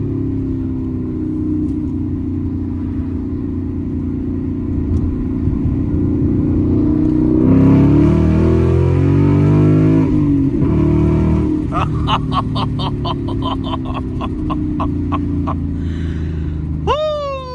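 A manual Ford Mustang GT engine rumbles at idle, then revs hard and climbs toward about 7,500 RPM in a loud, rising roar close to the listener. Sharp, rapid pulses follow as the revs rise again near the end.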